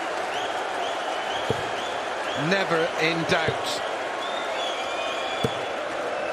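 A crowd at a televised darts championship final applauds and cheers in a busy, even wash of clapping, with a short burst of louder shouts midway and someone speaking over it.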